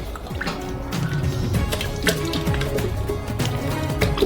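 A litre of 35% fat cream pouring into a stand mixer bowl, a steady close gurgling liquid stream with small splashes throughout, alone without talk.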